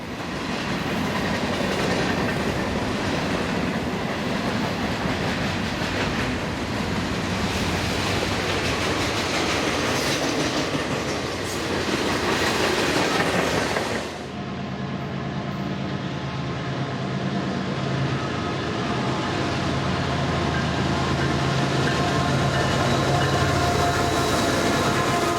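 A freight train led by an SD40-2 locomotive, once with Nebraska Central Railroad and later leased by Helm Financial, rolls steadily past in eastern Virginia, a loud continuous rumble of wheels and cars with a shift in tone partway through.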